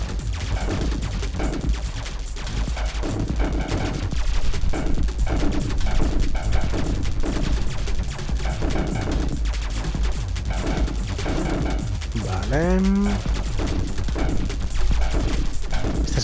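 Dense, continuous rapid-fire shooting in the retro arcade shooter Ultratron, with loud, steady electronic blasts and effects overlapping throughout and no pauses.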